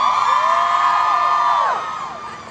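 A large audience at a Backstreet Boys 20th anniversary celebration cheers loudly, with a dense wall of high-pitched screams and whoops that eases off toward the end.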